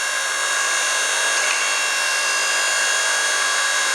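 A hydraulic log splitter runs at close range while firewood is split, giving off a loud, steady, hissing mechanical drone that holds even throughout with no voices over it.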